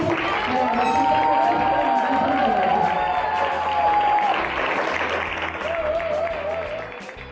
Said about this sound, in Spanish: obviamente el mejor aplauso a la Rosita.